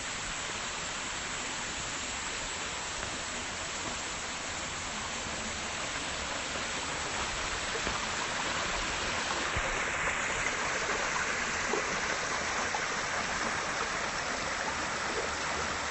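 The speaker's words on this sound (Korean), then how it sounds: "물소리 너무 좋다" Mountain stream flowing on Cheonggyesan, a continuous bright rushing and babbling of water, close and steady for the whole stretch with no talking.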